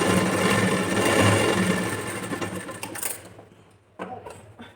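A sewing machine stitches a blouse in a steady, continuous whirring run for about three seconds before stopping, followed by a couple of faint clicks in the quiet.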